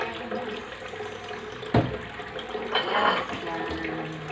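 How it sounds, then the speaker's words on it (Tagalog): Running tap water splashing over raw pork being washed in a sink, a steady wash with a sharp knock partway and a brief surge of stronger flow, close by. "Hugasan natin guys."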